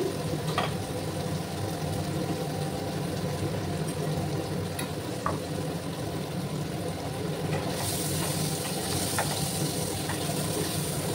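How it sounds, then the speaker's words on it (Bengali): Potatoes fry in a home-kitchen pan over low heat with a light pinch of salt, giving a steady, even sizzle that runs throughout with no talk, and a brighter hiss enters near the end. "প্রথমে আমি আলুগুলোকে একটু ভেজে নেব"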